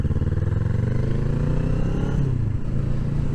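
A Kawasaki ER-6f motorcycle pulls away in second gear, its engine a steady, loud low drone with a slight pitch shift partway through, heard from the rider's position.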